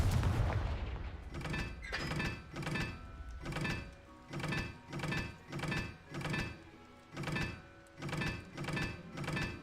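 Repeated Confringo fire-blast spells in Hogwarts Legacy, a rhythmic series of about a dozen booming thuds with crackling tails, evenly spaced and fairly close.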